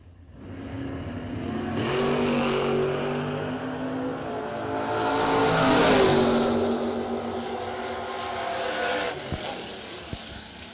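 Drag racing cars, including Jeff Krasinski's Camaro, launching down the strip, engines rising in a loud roaring swell, dipping, then surging again to a peak before fading, with a few sharp pops near the end.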